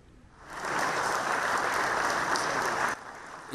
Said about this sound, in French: Des applaudissements pour saluer l'entrée du président de la République